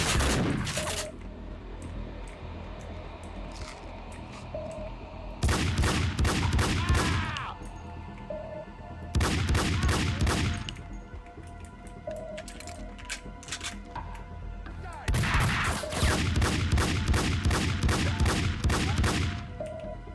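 Gunfire in the video game Max Payne 2 arrives in loud, sharp automatic bursts that repeat several times, separated by quieter gaps with faint ambient tones.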